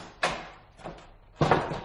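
A closed salon door is tried in a radio drama effect: a sharp rattle and knock, a softer second jolt, then a louder rattling thump, heard on its own without voices.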